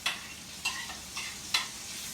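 Bacon frying in a pan for bacon bits, stirred in four soft scraping strokes spaced about half a second apart over a steady close sizzle, no talking.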